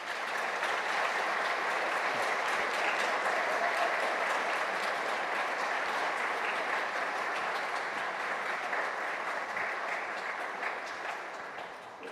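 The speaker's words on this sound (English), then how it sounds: "How about another round of applause for Kyle?" Steady, dense audience applause at a Heartland Symphony Orchestra concert, sustained evenly for over ten seconds before tapering off slightly at the end.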